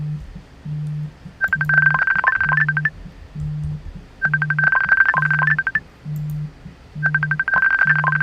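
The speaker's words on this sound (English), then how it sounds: "we're getting a phone call here." A telephone rings with three trilling electronic bursts, loud and close, over a regular pulsing low beep that repeats throughout.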